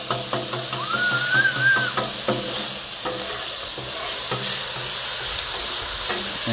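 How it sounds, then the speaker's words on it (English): Ghee sautés on a Blackstone griddle, producing a continuous close sizzle with a brief whistling tone, broken by light scraping and tapping of a utensil on the flat-top, no voices. "we're gonna add a little bit of ghee to it"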